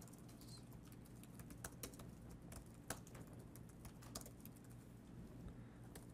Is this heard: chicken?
no